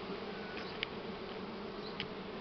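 Honey bees hum in a steady, close buzz while frames are pulled for a honey harvest, with a few faint clicks of the hive frames and no talking.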